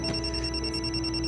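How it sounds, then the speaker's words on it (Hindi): A telephone rings indoors with a steady electronic bell tone, continuous and fairly clear against a low background hum. "एक मिनट यार, आयो एहसान साहब का फोन है"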